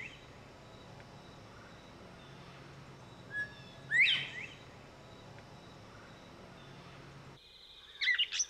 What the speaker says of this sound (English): This quail is called a bobwhite.